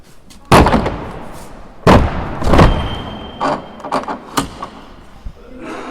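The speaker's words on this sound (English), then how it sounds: "Let me shut this door. Sorry to the listeners, you're going to hear a huge bang now." A door slammed shut during a night ghost hunt, several loud sharp bangs and knocks echoing close by, followed by softer thuds and rattles.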